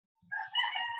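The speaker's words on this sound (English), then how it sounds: "Maybe you can hear the rooster from my neighbor." A neighbour's rooster crows outdoors at a distance, one sustained cock-a-doodle-doo rising after a brief pause and holding steady, fairly faint.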